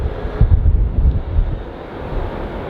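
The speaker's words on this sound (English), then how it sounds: "Taking the runway now, it's going to be Louisiana 1." Airliner rolling onto the runway at Los Angeles International Airport, a steady broadband engine roar and rumble with some wind buffeting on the microphone, fairly loud and continuous with no talk.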